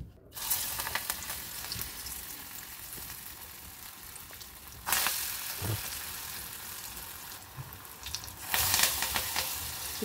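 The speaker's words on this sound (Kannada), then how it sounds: "ಉರಿ ಕಡಿಮೆ ಇಟ್ಕೊಂಡು ಎಣ್ಣೆಯಲ್ಲಿ ಬಿಡ್ತಾ ಬರೋಣ" Jackfruit seed ambode vada dough frying in oil on a low flame, giving a steady close crackling sizzle with a few louder bursts as pieces go into the pan.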